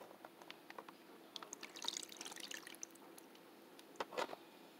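Pomegranate tequila BBQ marinade poured over chicken wings in a container, a soft splashing, dripping liquid sound that rises briefly near the middle and again toward the end, quiet and close with no talking.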